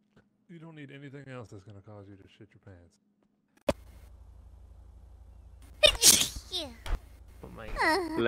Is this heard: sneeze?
yes